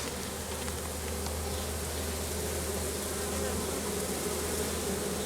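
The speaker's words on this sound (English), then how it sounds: "See those bees right there, just sitting there fanning in the air." Honeybees fanning at the entrance of a hive after a swarm introduction, a dense, steady, close buzzing drone that continues without pause.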